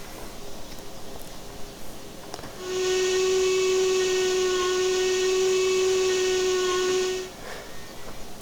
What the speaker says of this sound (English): So that's one of the whistles, kind of hootery style